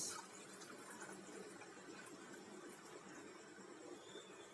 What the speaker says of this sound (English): let me pour the water and see what happens